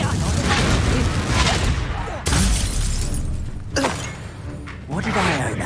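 Blasts of the Confringo and Incendio spells in Hogwarts Legacy combat, loud crackling explosions with a few sharp bursts and fiery rumble, while a voice calls out over the fight.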